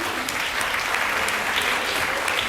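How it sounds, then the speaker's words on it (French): A school audience applauds after a children's bilingual English musical, the clapping dense, steady and loud for the whole stretch with no gaps. "Vous pouvez applaudir."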